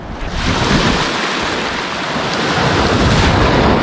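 A big ocean wave crashes and rolls ashore in a broad, sustained roar of churning surf, loud and steady throughout with no voices.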